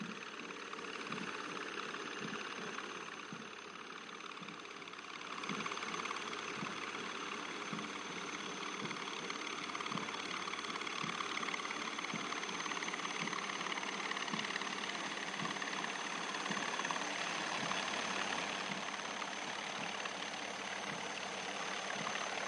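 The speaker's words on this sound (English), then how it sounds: "You can see one cheetah and two Chetak helicopters of 665 Army Aviation Squadron in PATS formation" One Cheetah and two Chetak helicopters of an army aviation squadron flying in formation over a military passing-out parade, a steady rhythmic rotor thud and engine drone held at a constant distance for over twenty seconds, with no talk.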